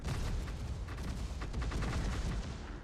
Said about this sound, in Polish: Light zaczyna do mnie strzelać.